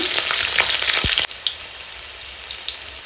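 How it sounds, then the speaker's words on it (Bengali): Green chillies and whole cumin seeds hit hot oil with a loud, bright sizzle that crackles steadily for about a second, then drop to a softer, scattered spitting after a sharp stir-like knock. "ওই তেলে দিয়ে দেবো কাঁচা লঙ্কা আর গোটা জিরে ফোড়ন"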